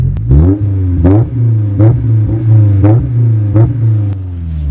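A Honda S2000 fitted with a Magnaflow exhaust revs repeatedly, several sharp throttle blips rising and falling over a steady loud idle, close by with no talking.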